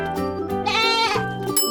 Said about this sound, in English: You got it! It's a goat.